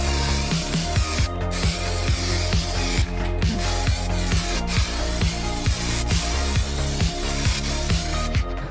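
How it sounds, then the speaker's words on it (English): A spray gun applies underbody coating to a Honda Civic's tunnel, a pressurized spray hissing continuously, up close and loud, interrupted by brief bursts and mechanical clatter. "Look how thick I can spray onto it"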